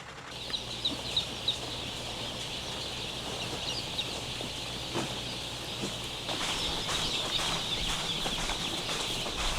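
Chicks hatched only three hours earlier fill a large chicken farm in Anseong, a dense continuous chorus of high peeping from thousands of birds with a low mechanical hum underneath.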